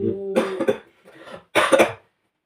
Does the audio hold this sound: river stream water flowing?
no